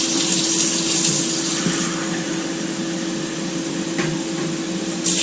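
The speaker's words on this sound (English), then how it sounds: "And I'm going to add my 3 cups of cold water." Cold water runs steadily into a bowl, a continuous broadband rushing splash with a low hum underneath, close and fairly loud with no pauses and no talk.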